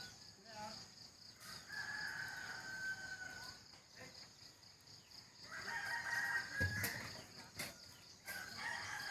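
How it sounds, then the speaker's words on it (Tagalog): Roosters crowing in the morning among chickens, two long crows several seconds apart at moderate distance over faint insect chirping and soft outdoor ambience. "Dami manok."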